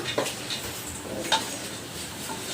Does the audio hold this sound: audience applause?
no